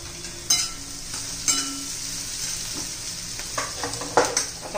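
Chopped onion sizzles steadily in a pan as a pinch of asafoetida goes in for a green bean dry curry, with sharp scraping stirs cutting through at irregular intervals, close and without talk.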